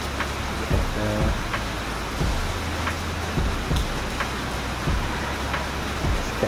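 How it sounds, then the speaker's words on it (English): Steady rain falls outdoors in a continuous hiss with a few faint taps, heard close with brief speech under it. "So it's raining and I'm waiting for somebody to pick me up."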